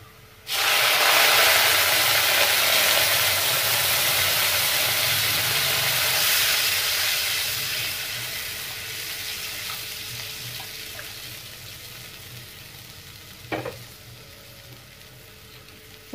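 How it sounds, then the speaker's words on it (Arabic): Water poured into a pan of browned, fried onions for sayadieh rice sets off a loud, steady sizzling hiss that rises at once and slowly fades, with a brief clink near the end. "هنزل بالمية."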